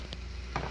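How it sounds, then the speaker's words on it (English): Ground steak with seasoning stir-frying in a pan, a soft steady sizzle with a couple of brief stirring scrapes, close and quiet. "Giờ mình làm, mình xào cái thịt bò"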